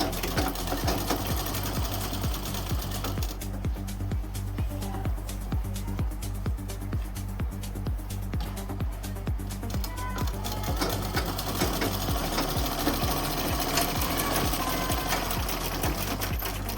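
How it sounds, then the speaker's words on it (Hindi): An electric sewing machine stitching a coat suit runs continuously at close range, a steady rapid whirring clatter of the needle that speeds and slows slightly. "इसकी जो पूरी फुल लेंथ है, इसको भी हम इस तरह से अटैच करके सिलाई लगाएंगे"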